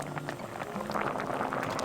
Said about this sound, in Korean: 호박 넣고 보글보글 한번 끓이고는 매운 고추 넣고